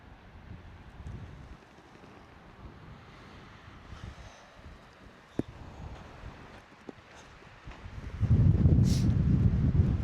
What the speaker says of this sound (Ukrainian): Зірвався такий досить сильний вітер.